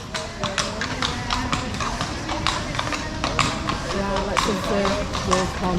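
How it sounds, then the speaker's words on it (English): Horse-drawn carriage in Seville, Spain, hooves clip-clopping in a steady, fairly close rhythm on the street, with people talking nearby. "Kids and Bob have gone on the horse and carriage, horse and trap, Horse and carriage"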